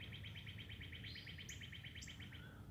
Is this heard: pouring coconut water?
no